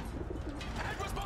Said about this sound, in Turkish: Güvercin uçuverdi.